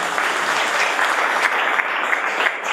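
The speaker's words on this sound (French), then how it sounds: "prier de les applaudir très fort." Gala audience applauding loudly and steadily, a dense sustained wash of clapping from a large crowd with no voices over it.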